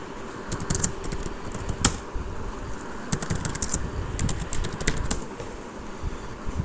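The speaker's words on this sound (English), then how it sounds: "So I'll just type." Fingers type on a computer keyboard in short irregular bursts of clicks, close and fairly quiet, with occasional sharper keystrokes over a low room hum and no speech.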